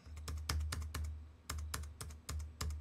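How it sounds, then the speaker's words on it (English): Fingers type on a computer keyboard, sharp clicking keystrokes in quick bursts with brief gaps, close and distinct over a steady low hum. "My keyboard just stopped working here."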